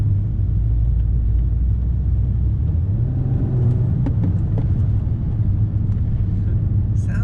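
Volvo S60 T6 engine idling with a steady, deep, throaty low rumble throughout, close and fairly loud, with faint clicks near the end.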